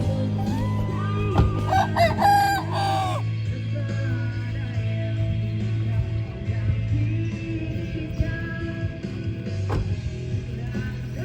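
A chicken crows once, loud and close, at a market-side beach, over a steady low engine hum with a few clatters and bangs around it.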